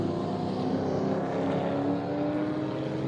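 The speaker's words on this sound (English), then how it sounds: "we're looking at Ryder in the 2nd of the Extreme TT cars, a V8 powered Nissan ahead of him" A V8-powered Nissan Extreme TT race car and other cars roar around the track in a steady, loud engine drone that holds at a constant pitch, with no commentary over it.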